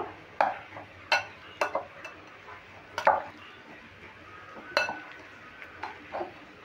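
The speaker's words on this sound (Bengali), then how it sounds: "এবার এই ম্যাশারে করে আমি একটু ম্যাশ করে নেব" Boiled raw banana mashed with a masher on a board, giving a series of sharp knocks and clinks at irregular intervals, close but fairly quiet.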